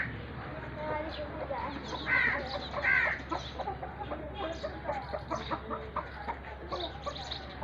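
Chickens, including a rooster, cluck and murmur close by while being fed grain, with a couple of louder squawks early on, while a person talks over them.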